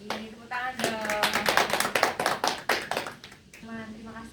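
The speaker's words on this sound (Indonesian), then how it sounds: "ini tepuk tangan dong." A group claps hands in rhythmic bursts during a group counseling session, the claps mixed with sung or chanted voices before and after.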